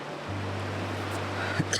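Creek water flowing beside a campsite in Idaho, a steady, close wash of noise that holds evenly throughout, with a faint low hum underneath.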